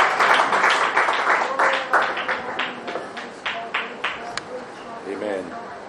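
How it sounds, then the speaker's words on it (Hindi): A church congregation clapping in thanks: a burst of many hands at once that thins into scattered, rhythmic claps, with voices joining toward the end. "तालियां मारकर धन्यवाद देंगे"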